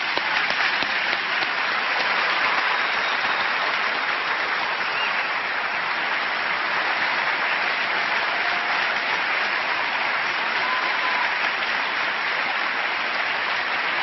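A large debate audience applauds to welcome the panelists, a dense, steady wash of clapping that holds at full strength for the whole stretch, with no one speaking over it.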